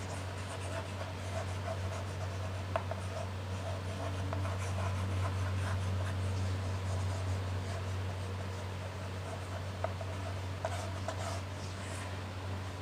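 Pen or pencil scratching on paper as a Hindi-speaking teacher writes out a geography topic heading, soft continuous scribbling with a few sharper ticks over a steady low electrical hum, no voice.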